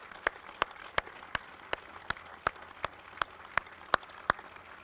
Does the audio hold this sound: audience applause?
yes